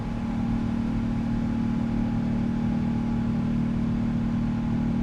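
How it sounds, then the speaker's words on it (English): General Electric engines on a PMDG Boeing 777-200ER in Microsoft Flight Simulator 2024 hum with a constant, even turbine drone and a steady low tonal whine, loud and unbroken throughout. "listen to these engines. I absolutely love that sound. Yeah, these are the GEs."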